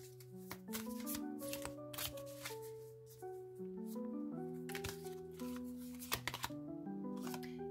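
Tarot oracle cards are shuffled and drawn by hand in a quiet room, with a run of soft riffling and flicking sounds and a few sharper snaps, close and faint, with no talking.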